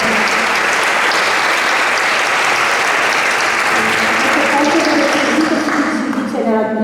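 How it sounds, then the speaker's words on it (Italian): Sustained audience applause, loud and dense clapping from a crowd throughout, continuing steadily to the end. "proporrei un grandissimo applauso di nuovo"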